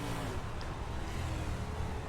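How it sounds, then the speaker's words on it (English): Engine of an Outlaw 305 race car on a dirt oval, heard from onboard as a steady, loud, continuous roar with the throttle worked hard, no talk over it. "really having to work that throttle here as they get 2 to go"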